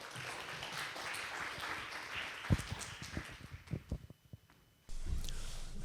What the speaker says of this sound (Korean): 자, 그러면은 큰 박수로 오늘 배종훈 교수님을 환영하죠